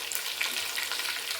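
Food frying in a cooking pot for Haitian wheat and pinto beans, a steady bright sizzle with crackling bursts, close and continuous, ending in a sudden loud knock.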